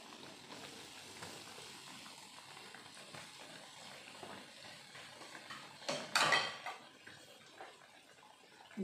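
Chicken pieces frying in hot oil in a pan for Korean spicy and honey chicken, a steady close sizzle with a brief louder clatter of utensil against the pan midway, no speech.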